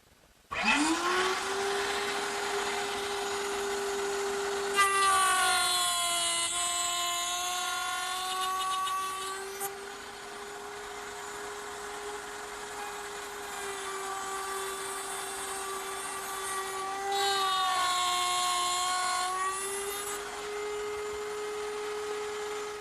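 Woodworking router at a router table cutting wood for bedside table rails, a loud sustained high whine that dips in pitch under load as it bites the wood, running continuously and close.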